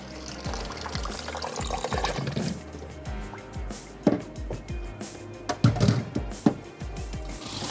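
Cold tap water runs and splashes over boiled macaroni in a strainer, a steady pouring rush broken by irregular clatters and sloshes as the pasta is shaken, close and fairly loud.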